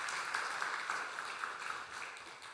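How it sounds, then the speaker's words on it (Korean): Church congregation at a Korean Sunday service clapping to welcome a newly registered member, a steady moderate wash of many hands across the sanctuary that softens slightly toward the end. "우리 박수로 환영하도록 하겠습니다"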